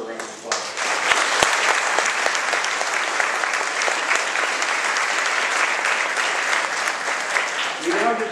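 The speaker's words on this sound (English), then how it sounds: "Let's give her a round of applause." An audience at an elementary school assembly applauds loudly and steadily in an indoor hall, with dense clapping that holds throughout.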